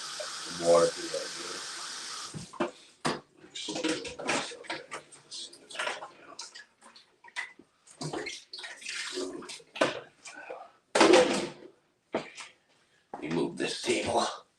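Water gushes through a homebrewing hose in short splashing bursts, with intermittent rushing and pauses, while someone talks in between.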